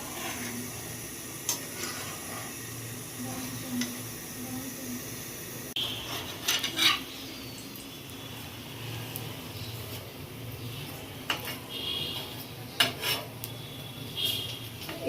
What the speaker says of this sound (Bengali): এই পিঠটা লাল করে ভাজা হয়ে গেছে।